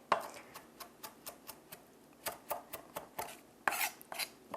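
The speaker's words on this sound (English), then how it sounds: "move the knife to chop" A knife chops parsley on a cutting board, mincing it fine in a steady run of sharp, close taps, about a dozen strokes with a brief pause midway and a quicker burst near the end.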